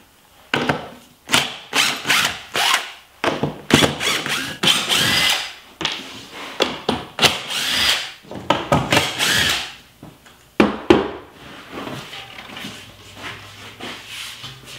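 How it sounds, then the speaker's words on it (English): Power drill driving out screws from the 3/8-inch plywood top of a wooden art shipping crate, in repeated short whirring bursts with brief pauses between, close and fairly loud. "The first thing I'll do is unscrew the top"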